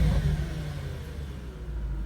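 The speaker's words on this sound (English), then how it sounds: "it makes that noise, that beautiful V8 sound" An Audi S5 4.2 V8 engine rumbles steadily close by, low and throaty, with no voices.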